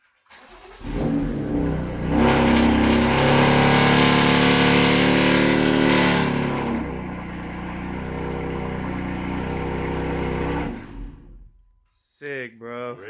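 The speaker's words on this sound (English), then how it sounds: "Start the car too, right? Yeah, start it." A BMW M4 F82 engine cranks and starts, then revs loudly for several seconds before settling to a steady idle; brief voices follow at the end.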